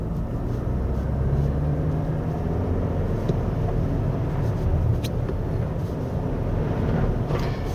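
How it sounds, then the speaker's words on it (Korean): A Toyota Crown 2.4 Dual Boost Hybrid accelerates in comfort mode on a snowy winding road, a steady engine drone from inside the cabin with road rumble that holds level throughout. "이 속도가 올라가는 거랑 그 다음에 엔진 소리가 커지는 게"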